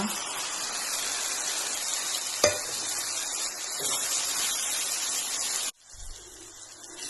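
Tomato and masala fry in oil in a pan for green chilli chicken, making a continuous hissing sizzle with a sharp clatter partway through, then cutting off abruptly to quiet room noise near the end.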